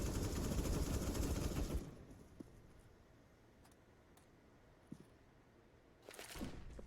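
Gunfire in CS:GO on the Vertigo map during a competitive match: a loud dense burst of shots for about two seconds, then quiet with a few faint ticks, and another sharp burst at the end.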